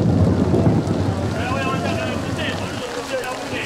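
Heavy thunderstorm with rain outside a football stadium, a dense, steady rush of rainfall and low rumbling that fills the scene and eases slightly toward the end.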